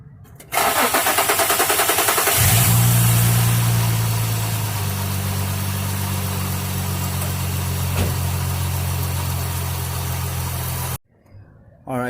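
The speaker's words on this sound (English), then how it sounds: "I'm gonna turn the car on real quick. That way you can see how it hesitates to" A camshaft-sensor-troubled Infiniti G35X cranks with a hesitant start, then catches and settles into a steady, loud idle close by before cutting off abruptly near the end.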